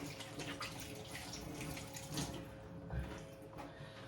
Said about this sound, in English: let me wash my hands here